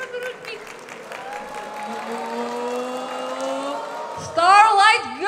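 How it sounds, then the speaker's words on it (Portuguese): Applause from an anime convention audience for a group cosplay contest, a sustained clatter of clapping under a presenter's amplified voice, rising and swelling near the end. "Mais uma salva de palmas para ele."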